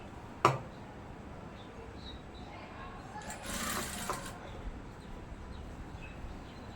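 A sewing machine stitching salwar pants gives a brief, faint whirring run partway through, set against a quiet room with one sharp click near the start.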